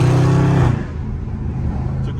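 A Dodge Scat Pack car driving in traffic gives a loud, deep engine drone that drops off sharply after a moment and settles into a lower, steady rumble.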